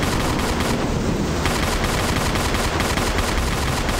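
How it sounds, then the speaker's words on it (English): Sustained rapid gunfire from a fan-made Resident Evil survival horror game, dense and loud, continuous bursts with no pauses. "I have to keep firing"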